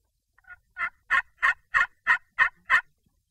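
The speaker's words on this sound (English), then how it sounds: "we got a turkey out in this field strutting with a hen" A wild turkey strutting with a hen in an Alabama field gives a loud, close gobble: seven or eight rapid, evenly spaced pulses over about two seconds in otherwise quiet surroundings.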